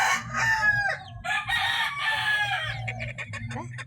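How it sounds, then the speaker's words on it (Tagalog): A rooster crows loudly and close by on a Philippine farm, its long cock-a-doodle-doo spread over several seconds, with low background noise and a few clucks from other fowl. "Gwapo ang chicken, ha?"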